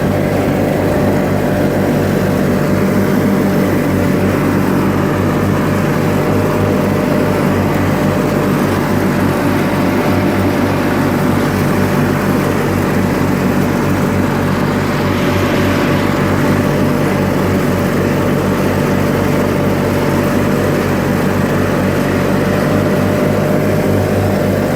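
A 1986 John Deere 318 lawn tractor with an old horizontal twin engine runs steadily at full throttle while mowing, a loud, close, continuous drone with a constant hum that holds throughout, with no talking.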